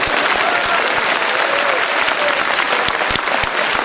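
Loud, dense applause from a large audience at a Hindi religious discourse by Vidyasagar Maharaj in Vidisha, steady sustained clapping from the back of the hall with a faint murmur of voices beneath.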